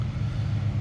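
Highway traffic rumbles steadily in the background, a low continuous roar of passing vehicles with no distinct events, moderately loud and unbroken for the brief moment.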